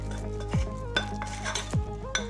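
Seasoning powder being stirred in a bowl for Korean crispy zucchini pancakes, with a utensil scraping and clinking against the bowl in short repeated strokes, close and fairly quiet, with no talking.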